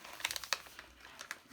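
Plastic bags holding butane lighters crinkle in a series of short, crisp rustles and crackles, fairly close and quiet, with no talk over them.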